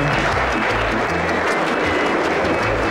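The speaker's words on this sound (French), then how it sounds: "Vous pouvez applaudir parce que vraiment..." An audience claps in steady, sustained applause, a dense even roar of hands that fills the moment with no voices over it.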